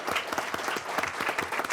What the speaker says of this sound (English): I think we need to give them a round of applause.